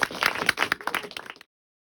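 An audience at a university cinema school talk claps for about a second and a half, a brief, moderately close patter of many hands that cuts off abruptly into silence.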